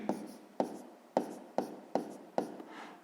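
A pen taps and scratches numbers onto paper while a sixth-grade math exercise is solved. Six sharp, evenly spaced strokes land about every half second, close and quiet, with no talk.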